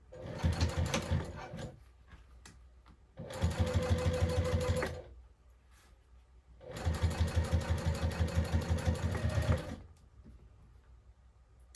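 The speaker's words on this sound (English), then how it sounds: "then top stitch on either side" A sewing machine top stitches a bag in three close, steady runs of rapid rhythmic needle strokes, separated by quiet pauses with faint handling.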